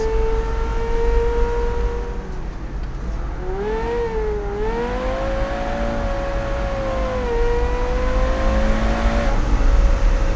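A Porsche Carrera GT engine revs steadily, its pitch rising and falling with throttle blips, a loud, close engine note with no talking.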